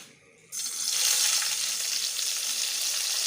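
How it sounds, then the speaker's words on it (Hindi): Marinated chicken, seasoned with black pepper, salt and vinegar, shallow frying in a pan over a lowered flame; after a brief quiet moment a dense, steady sizzle bursts in and continues close and even. "अब इसको हम शैलो फ्राई कर रहे हैं"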